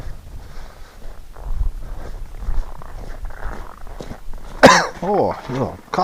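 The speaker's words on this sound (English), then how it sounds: "a little coughing happening here" A few short coughs break out near the end among ducks outside in winter wind and cold, preceded by rustling and low handling noise, fairly close and loud against a breezy background.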